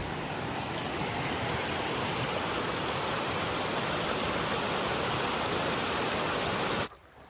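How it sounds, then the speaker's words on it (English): Loud, continuous rushing of a creek flowing close by in the Collegiate Peaks Wilderness, Colorado, a steady broadband wash of water that cuts off abruptly near the end. "Another little creek crossing."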